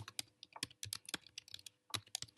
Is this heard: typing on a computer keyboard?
yes